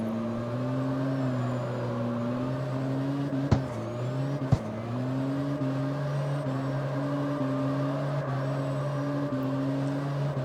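Front wheel drive car drifting in CarX Street, a steady droning engine note held at high revs, with a couple of sharp clicks or knocks partway through.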